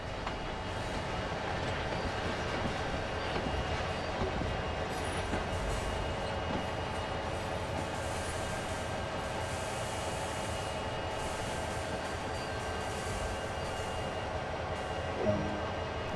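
A CSX heavy haul freight train in Train Sim World rolls steadily over a track switch, with a continuous loud rumble of wheels and cars and a faint brief click near the end, no talking.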